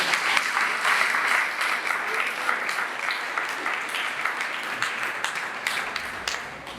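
A church congregation applauds the husband during a wedding blessing, a dense, sustained burst of clapping from many hands filling the room, with faint voices mixed in.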